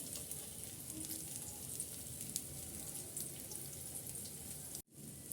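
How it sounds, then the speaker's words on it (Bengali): Pieces of noodle barfi frying in a pan as they are turned, a faint, even hiss of oil that runs steadily and breaks off for a moment near the end. "চারিপাশটাই আমি উল্টিয়ে পাল্টিয়ে একটু ভেজে নেব"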